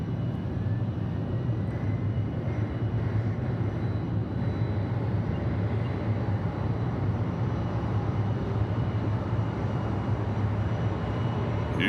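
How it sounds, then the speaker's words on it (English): UPS McDonnell Douglas MD-11 freighter at hazy Atlanta Hartsfield-Jackson airport, a steady broadband jet roar with low rumble holding constant throughout, no voices. "So this should be the MD-11 headed to Louisville."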